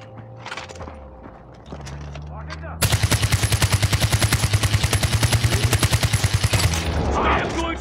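Rapid automatic gunfire in the Far Cry 4 video game, a loud evenly spaced burst of shots lasting several seconds after a few scattered quieter sounds and game effects.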